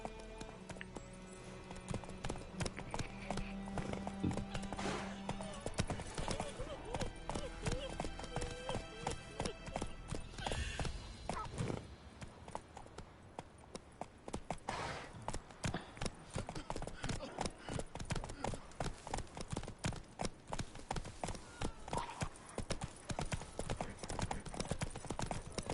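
Horse hooves clip-clopping in the video game The Witcher 3, a continuous rapid rhythmic trot heard close, with a brief whinny early on and a voice speaking over it.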